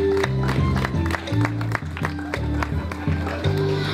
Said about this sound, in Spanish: Recibamos con fuertes aplausos a la profesora